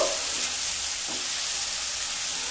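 Turmeric, ginger paste and ground spices fry in a pan for a fish curry, giving a steady, close, hissing sizzle with faint stirring underneath and no voices.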